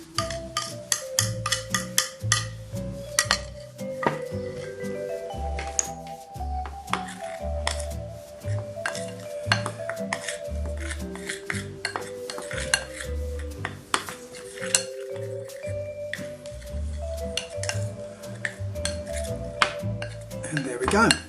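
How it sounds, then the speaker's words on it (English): A utensil mixes a dry vegan fish marinade in a bowl, making quick, repeated clinks and scrapes against the bowl at close range over several seconds, with no talking. "So now I'm going to mix this in with my, I still call it a marinade,"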